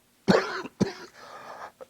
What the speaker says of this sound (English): I'm still getting over my cough